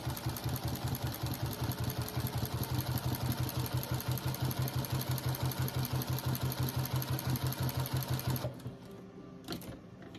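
A sewing machine fitted with a walking foot stitches rag quilt squares onto a red checked square in a steady, rapid mechanical chatter for about eight seconds, then stops, leaving a few faint handling clicks.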